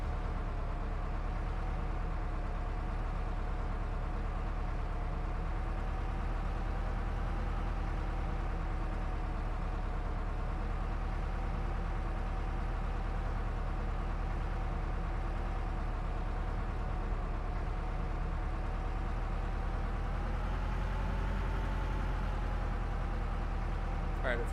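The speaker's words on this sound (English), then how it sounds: "It's like the laziest engine I've ever heard in my life." A V12 engine in an interwar tank idles in the video game Arms Trade Tycoon: Tanks, giving a steady, unchanging low drone that stays loud and continuous throughout without revving.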